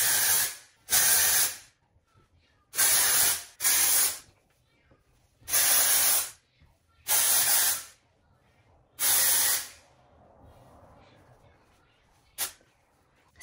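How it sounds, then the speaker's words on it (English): Close, loud aerosol spray in a series of short bursts, about six hisses of a second or so each with brief pauses, then a final quick puff. "about 15 centimeters away from your scalp, you're gonna spray it."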